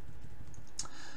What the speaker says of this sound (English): I'll resize the brush by pressing the bracket keys on your keyboard,